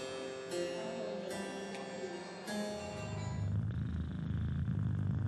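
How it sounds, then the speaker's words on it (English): Low, steady rumbling purr of cats played through a museum sound installation, coming in beneath a fading sustained tonal drone and then continuing alone. "that is the mesmerizing rumble of cats purring"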